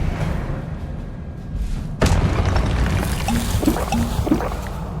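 Expelliarmus spell cast in the video game Hogwarts Legacy: a sudden loud booming burst strikes midway through a quieter ambient bed, followed by a sustained shimmering magical wash with scattered lighter effects.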